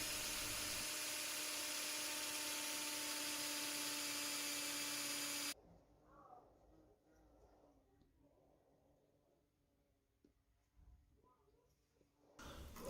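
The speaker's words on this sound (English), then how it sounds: "I need to use a 4mm drill bit to drill a hole in each of the dowels" A power drill with a 4mm bit whines loudly and steadily for about five seconds drilling holes in wooden dowels, then stops, leaving faint handling noises and a brief burst at the end.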